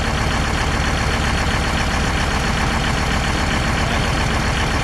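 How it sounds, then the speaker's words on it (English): A farm tractor engine runs steadily at idle on a cold, rainy day, a dense continuous rumble close by with no speech over it. "That is a running tractor."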